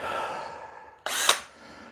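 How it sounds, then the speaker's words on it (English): Milwaukee M12 drill, speed 2 in drill mode, boring a pilot hole: one short, loud burst of motor whine that starts abruptly after a quiet stretch, lasts about a quarter second, and then fades back to faint background. "So this is going into a pilot hole. Speed 2 in drill mode"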